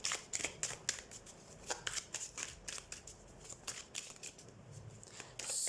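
Tarot cards are shuffled and drawn in a quiet room for a Scorpio full moon reading: a string of quick, crisp flicks and riffles, close and fairly soft, ending in a brief brushing slide.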